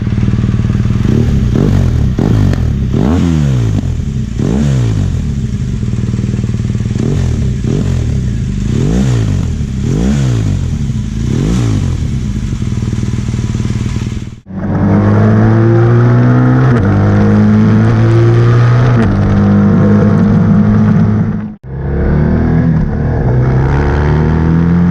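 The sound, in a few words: BMW R1200GS motorcycle with SC Project exhaust, baffle removed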